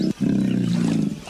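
A deep, sustained animal roar sounding close and loud, rising after a brief opening burst and holding steadily for about a second before fading, with no talk over it.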